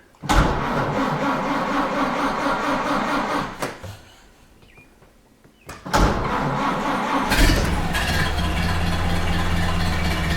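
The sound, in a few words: 1929 Ford Model A engine starting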